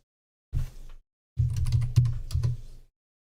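Rapid clicking of computer keys, a short burst followed by a longer run of uneven keystrokes, close and fairly loud, with no voices.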